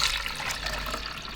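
Water poured into a regular drip coffee machine's reservoir, a steady close splashing trickle running throughout without pause.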